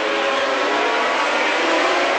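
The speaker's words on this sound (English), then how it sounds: "the revs are rising and away they go" A field of Formula 1 cars at the 1981 British Grand Prix accelerates away from the start, a dense, loud, continuous roar of high-revving engines blending together without a break.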